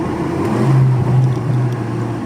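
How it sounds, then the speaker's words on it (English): A 2018 Honda Civic Si with its muffler deleted gives a loud, droning exhaust tone heard from inside the car. The pitch rises briefly during a rev-matched downshift, then settles to a steady rumble, with no voices. "this is the sound clip. A little downshift rev matching."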